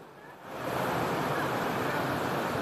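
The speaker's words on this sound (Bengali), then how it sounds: "জলপ্রপাতের কাছাকাছি আরো দেখি।" Rushing water at a waterfall near Ranchi, a dense, loud, continuous roar that swells in after a brief quieter start, with wind buffeting close by.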